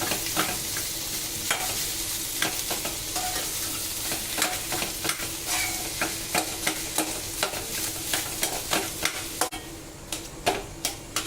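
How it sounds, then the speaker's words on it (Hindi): Rhythmic scraping strokes of a spoon stirring potatoes, onion and salt in a hot pan on a lit flame, with a steady low sizzle underneath; the clacks repeat quickly and evenly, loud and close, with no talking. "सबको अच्छे से मिक्स कर लेंगे।"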